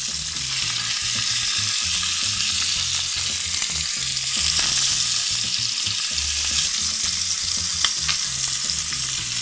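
Ibaïona pork sizzling in a pan over fairly high heat, a loud, continuous, close-up frying hiss that holds steady throughout with no talking.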